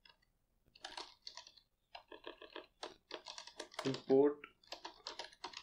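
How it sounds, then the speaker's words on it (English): Computer keyboard typing while a person talks over it, keys tapping in short clustered bursts mixed with speech, close and moderately loud. "So I'm just going to type python"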